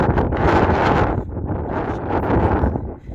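Wind gusts outdoors beside a flower market, buffeting the microphone with loud rushing roar that swells, dips briefly, then surges again, with no voices heard.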